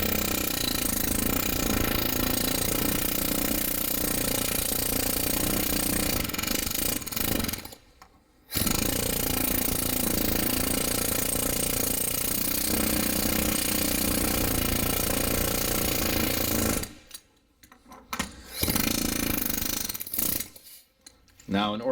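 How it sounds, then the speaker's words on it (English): A pneumatic air hammer driving out a stuck bearing race from a wheel hub, chattering loudly and continuously with two short pauses. "if you're going really hard with the air hammer"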